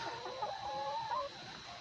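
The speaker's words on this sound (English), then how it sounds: "we got a chicken on a swing." A chicken perched on a swing gives a short burst of soft, nearby clucks over a faint steady background hum.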